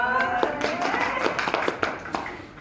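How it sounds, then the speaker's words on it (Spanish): A church congregation at Sunday school applauding: a steady round of hand claps over a lingering voice, moderately close, with sharper individual claps toward the end. "¡Oh, y un aplauso!"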